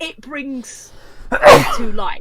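One sharp sneeze bursts out between stretches of close conversational speech, loud and sudden amid the talking.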